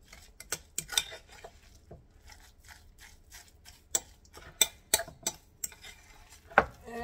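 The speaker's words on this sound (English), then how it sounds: "I'm just gonna mix it up real well to incorporate" Salmon burger mixture being mixed in a bowl, heard as uneven scraping taps and clinks of a utensil against the bowl, close, with short quiet gaps between strokes and no speech.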